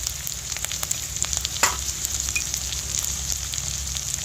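Ground turmeric, chilli, coriander and cumin powders frying in oil, giving a dense continuous sizzle with crackling pops and a brief stir, heard up close without any voices.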